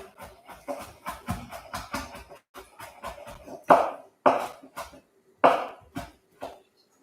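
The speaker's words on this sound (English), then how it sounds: "Today, I decided to do some chopping." Vegetables are chopped with a knife for a clean green soup, a series of sharp, rhythmic thuds on a cutting board, quick at first and then slower with a few louder, isolated chops, heard alone and close.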